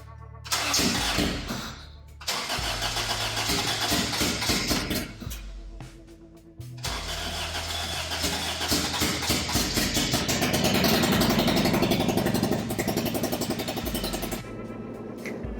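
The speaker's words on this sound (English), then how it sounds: "the car definitely had a really bad misfire" Honda Integra race car engine on its first startup with a bad misfire: cranking, then a rough, loud, stumbling idle with uneven pops, briefly dropping off and catching again, close up.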